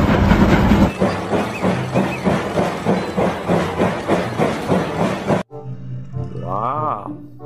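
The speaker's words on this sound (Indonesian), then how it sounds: "kita menemukan kereta api Thomas." Thomas the train toy running with a rhythmic clickety-clack chugging, loud and close for about five seconds, then stopping abruptly as a brief tonal sound and a voice follow.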